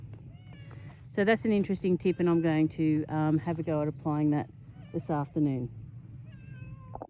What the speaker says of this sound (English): I'm not sure if you heard that meowing,